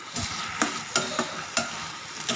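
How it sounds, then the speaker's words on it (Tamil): Tomatoes sauté in a pan over medium flame for a tomato sambar, a steady sizzle broken by about six sharp spoon scrapes and stirring knocks in an uneven rhythm, close up and without voices. "நல்லா இப்போ தக்காளியை வதக்கி விட்டுக்கலாம்"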